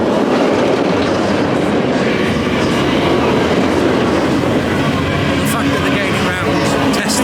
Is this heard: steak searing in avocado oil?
no